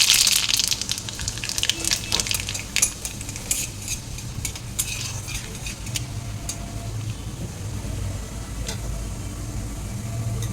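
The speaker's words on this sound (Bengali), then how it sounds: "আমি কড়াইয়ে প্রথমে রাঁধুনি সস, কালো জিরে আর দুটো শুকনো লঙ্কা দিয়ে দিলাম" Mustard oil with black cumin and two dried chillies spits and crackles in a wok, a busy frying hiss dotted with sharp pops and a few utensil clinks that settle over time.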